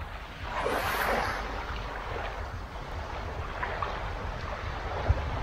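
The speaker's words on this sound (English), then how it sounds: "heading into the ocean at Half Moon Key." Ocean surf rolls steadily onto the beach at Half Moon Cay, a continuous broad wash of waves mixed with wind buffeting the microphone, with no voices.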